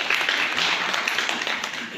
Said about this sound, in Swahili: Makofi mengi sana kwa mheshimiwa.